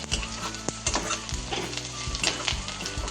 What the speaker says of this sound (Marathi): चांगला कांदा भाजायचा, लय कच्चा ठेवायचा नाही, गुलाबी रंगावर भाजायचा।